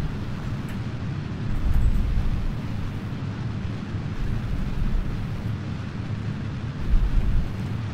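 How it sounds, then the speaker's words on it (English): A rocket blows apart in the Kerbal Space Program game, giving a low, rumbling boom that rolls on for several seconds with swelling surges and no clear sharp blast. "and we have had an explosion."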